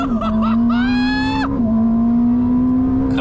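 An electric car accelerates hard in first gear with a rising whine that climbs and then steps down, over a steady low drone, close and loud, with no talking.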